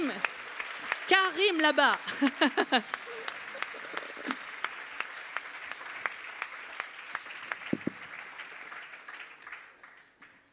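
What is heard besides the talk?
audience applause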